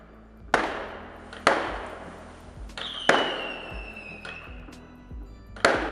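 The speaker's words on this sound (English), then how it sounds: "they were setting off fireworks just outside on the street outside" Fireworks and firecrackers set off on a Beijing street during Chinese New Year give five sharp, loud bangs spaced about a second apart, each trailing off into echo, with one whistling streak between them.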